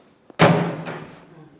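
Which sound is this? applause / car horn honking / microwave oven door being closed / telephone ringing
microwave oven door being closed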